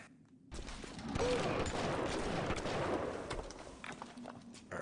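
Rapid gunfire from Bioshock gameplay rattles on for several seconds as a dense barrage of shots, fairly quiet overall and not separated into distinct blasts.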